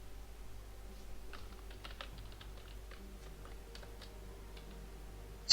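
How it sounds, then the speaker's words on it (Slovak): Keys clatter on a computer keyboard during a League of Legends session, a quiet, uneven patter of taps and short bursts, close and alone with no talking, ending in one louder click. "už mi normálne funguje klávesnica"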